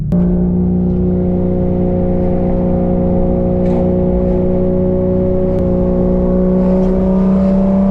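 A 2018 Porsche GT3 with a manual gearbox and an RSR-style exhaust holds a loud, steady engine drone with strong tonal harmonics, heard close and continuous throughout.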